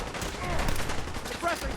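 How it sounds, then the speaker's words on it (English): Gunfire in Fallout 4 crackles as a rapid, dense burst of shots under continuous talking, moderately loud and brief. "Θα τους πυροβολήσω."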